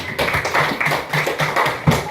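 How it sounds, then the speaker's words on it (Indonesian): Schoolchildren clapping together in an elementary school classroom, a quick series of sharp, fairly close hand claps in a loose rhythm, with no talking over it. "Tepuk tangan."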